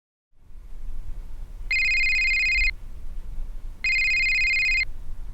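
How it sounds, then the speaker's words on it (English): A mobile phone rings in two electronic ringtone bursts of about a second each, separated by a short gap, over a low steady room background with no talk. "phone rang"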